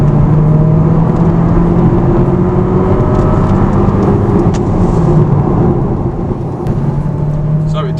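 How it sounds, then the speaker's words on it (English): Mercedes A200 A-Class, a 2024 model, accelerating hard to 70 mph, heard from inside the cabin as a steady, loud engine and road drone with a slowly rising tone across the whole stretch. "we're going to floor it all the way to 70, so you guys get the oomph reaction, the noise reaction"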